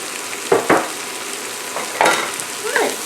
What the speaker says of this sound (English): I'm going to cook these down for another maybe 2 minutes, 3 minutes tops